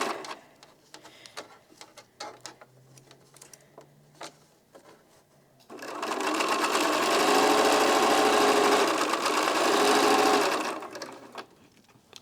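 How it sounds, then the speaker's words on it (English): A sewing machine stitches small rectangles of charm-pack fabric onto a quilt block, a steady close whirring run of about five seconds that follows faint ticking and handling sounds. "now I have to sew the small rectangles onto the other side"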